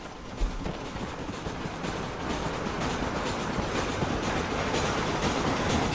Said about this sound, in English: I think we got a train coming.